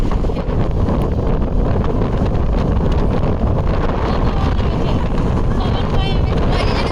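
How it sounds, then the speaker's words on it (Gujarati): Strong wind blows across a bridge outdoors, a steady, loud rushing roar buffeting the microphone for several seconds without pause. "આવો જ પવન આવતો રહે તો કેટલું સારું થાય"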